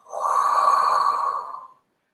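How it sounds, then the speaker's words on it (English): A person takes a deep breath in and lets it out in one long, smooth, audible exhale, close up and alone, during a Pilates back-pain exercise. "Deep breath in and exhale."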